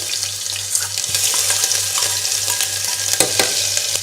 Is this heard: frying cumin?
yes